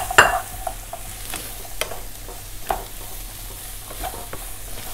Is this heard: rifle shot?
no